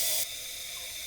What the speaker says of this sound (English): turn off the steam button and let all of the steam out until it runs out of steam